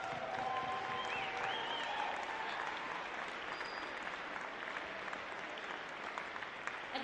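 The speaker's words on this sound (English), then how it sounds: "big round of applause for all the high schools, families, and band directors." An audience at a university jazz festival claps in steady, dense applause that holds throughout, with a few faint voices mixed in.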